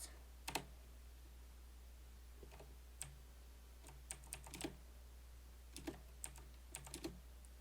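Python code being typed on a computer keyboard: sparse, irregular clusters of crisp key clicks with pauses between bursts, close and fairly quiet over a steady low hum.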